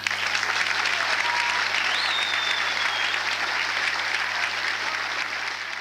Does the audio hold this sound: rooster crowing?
no